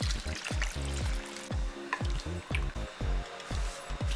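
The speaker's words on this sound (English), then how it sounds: "Now I'm going to add 4 glasses of hot water." Hot water is poured into a pot of soaked basmati rice and red dal, making a quiet series of close, rhythmic glugging splashes.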